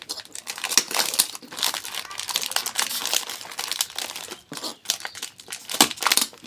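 Plastic crinkles and rustles as a spice container is packed and wrapped by hand for a home business, with close, continuous crackling in irregular bursts and no talking.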